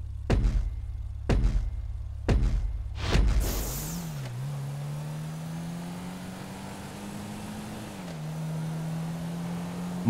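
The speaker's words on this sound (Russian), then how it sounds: "Маленький, скромный седан. Чем-то на Лада Калина похож." A Declasse Asea, a small modest sedan in a GTA video game, gives a few sharp knocks, then its engine starts and settles into a steady, even drone that dips briefly and holds.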